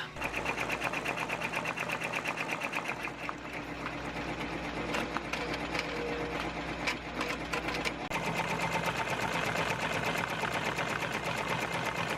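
Sewing machines run in a small home-business workshop, a fast steady mechanical whirring and clatter that continues loud and close throughout, briefly easing before picking back up.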